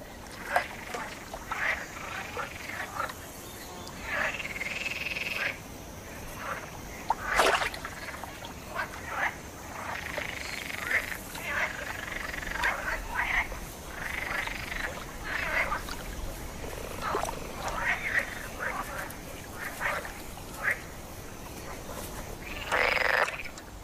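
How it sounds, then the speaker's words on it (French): A chorus of male green frogs croaking repeatedly in short, pulsing mating calls in a French forest, several voices overlapping steadily over faint background noise. "Ces inlassables choristes sont des grenouilles vertes,"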